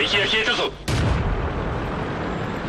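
A Type 95 Heavy tank gun in World of Tanks fires one sudden, loud blast that rumbles and fades, just after a voice is heard talking.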